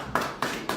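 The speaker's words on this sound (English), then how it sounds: "let's give him a beautiful warm round of applause" Three sharp hand claps ring out in quick, even succession, close and crisp, like the start of a round of applause at a live investment meet-and-greet event.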